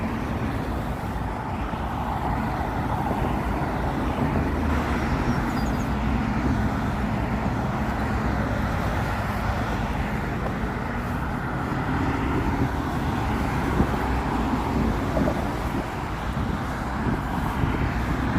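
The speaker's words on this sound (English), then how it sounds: "Is the traffic noise too loud?" Steady broadband traffic roar from a highway right next to a shoreline walk in Brooklyn, a continuous wash of passing cars with some wind buffeting the microphone, no voices.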